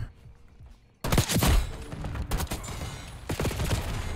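Sniper rifle shots ring out in Black Ops 6 on the Nuketown map: after a quiet second, several sharp, loud reports hit in quick succession over continuous game noise.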